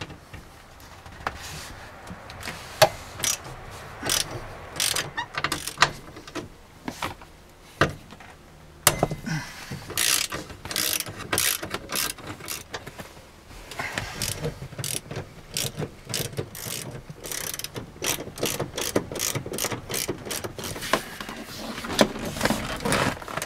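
A ratchet wrench undoes 14 mm bolts under the rear seat of a Hyundai Santa Fe. Close, crisp clicking comes in bursts of varied length, separated by short pauses and faint handling noises, with no talking.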